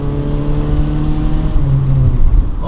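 Honda car engine revving loudly with its muffler chopped off, a raw, droning exhaust note held close and steady before dipping slightly near the end.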